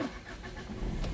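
A 2019 Mitsubishi Triton single cab 4x4 pickup's engine cranks and catches, settling into a steady low rumble that rises slightly toward the end; no voices.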